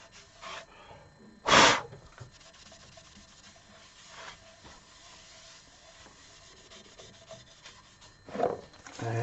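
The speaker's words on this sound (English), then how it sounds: "Just clean out the grain a little with a tack cloth." A tack cloth wiped over wood grain freshly sanded to 240 grit, heard as faint, soft rubbing strokes with a couple of louder brushing swipes near the start and end, no talking.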